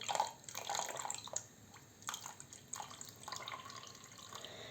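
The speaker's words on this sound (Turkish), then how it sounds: "Damlarken oraya damlıyor, buradaki bardak da doluyor." A drink dripping and trickling from one glass down into a second glass set beside it, close and fairly quiet, with irregular splashes and a thin running stream.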